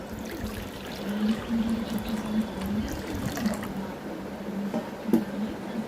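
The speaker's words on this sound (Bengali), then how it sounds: "তো প্রথমে আমি জল নিয়ে নিচ্ছি।" Water pours into a vessel in a steady, fairly quiet trickling stream, with a faint rising tone as it fills and a small knock near the end.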